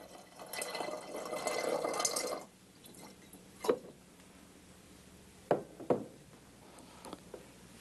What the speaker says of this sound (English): If I pour water into this liquid